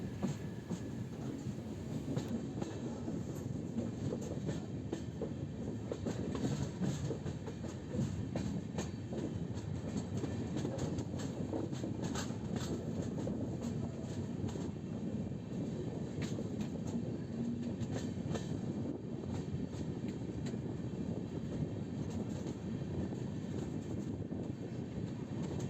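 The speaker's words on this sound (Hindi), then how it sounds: "अब अपनी ट्रेन नई दिल्ली मुंबई रूट को छोड़कर बाईपास लाइन की ओर बढ़ रही है" An Indian passenger train travels on a bypass line off the New Delhi–Mumbai route near Vadodara. A continuous rumble of rolling wheels and rail noise is heard from onboard, steady and fairly loud, with faint clatter throughout.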